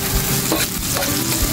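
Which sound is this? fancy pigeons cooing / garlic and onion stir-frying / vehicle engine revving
garlic and onion stir-frying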